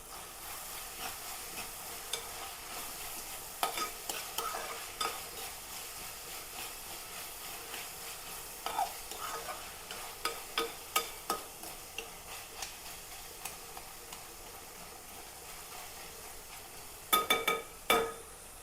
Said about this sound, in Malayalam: അതിലേക്ക് രണ്ട് തണ്ട് കറിവേപ്പിലയും കൂടി ഇട്ട് കൊടുത്തേക്കാം